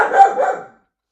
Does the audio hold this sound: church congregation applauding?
no